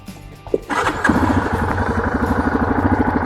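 A 2020 Yamaha Kodiak 450 EPS Special Edition ATV, parked, starts with a brief starter crank that catches into a steady, close, pulsing idle that runs on alone.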